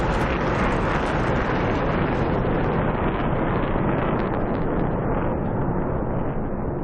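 A flight video game plays an aircraft flyby as a loud, broad roar with a rattling engine edge, fading gradually as the plane recedes into the distance.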